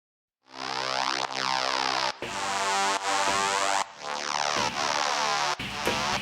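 Three layered mid-range synth basses with their sub bass removed hit together in a series of bright, dense sustained notes, about seven stabs with brief breaks between them, alone and steady in level.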